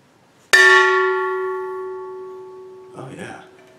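A wooden spoon strikes a jug once at home, giving a single clear ringing chime-like tone that rings out and slowly fades over a few seconds before a voice briefly speaks near the end.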